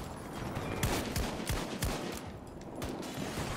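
A quick series of sharp gunshots sounds in a video game, with about half a dozen cracks spaced irregularly over a busy background of game noise.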